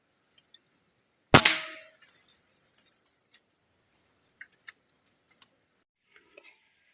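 One sharp, close gunshot rings out while birds are being shot outdoors. Its echo decays quickly, and a few faint scattered clicks follow.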